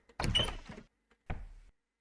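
A door opens in the horror video game Tall Poppy, giving a fairly loud creak-and-thud lasting about half a second, then a shorter second knock or clunk about a second later, alone in an otherwise silent room.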